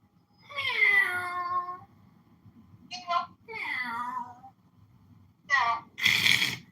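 A cat meows several times: long drawn-out cries and shorter calls separated by quiet pauses, ending in a harsher, noisier burst, fairly close.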